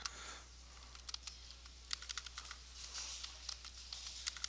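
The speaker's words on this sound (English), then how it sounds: "So I'm going to type in Ridgeview." Fingers type steadily on a computer keyboard, a run of light, quick clicks close by at low level over a faint steady hum, with no talking.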